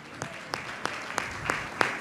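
A church congregation claps in a sermon setting, six sharp, evenly spaced claps about a third of a second apart over a steady room hum, moderately close.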